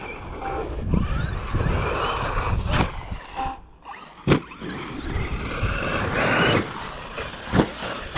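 A Traxxas XRT RC truck with a Castle 1721 1260kv motor revs and whines as it drives, the motor pitch rising and falling in bursts with some rattling and knocks from the chassis, fairly close.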